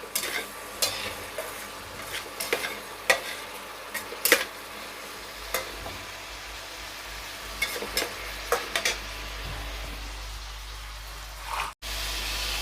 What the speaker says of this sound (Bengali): গরম মশলা দিয়ে আমি আর একটু নাড়া দিয়ে নেব।